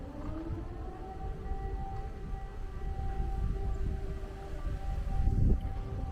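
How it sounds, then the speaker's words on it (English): An air raid siren wails steadily over Kharkiv in the early morning, a long sustained distant tone with a slow rising pitch over low rumbling city and wind noise. "that's the air raid sirens going off even now"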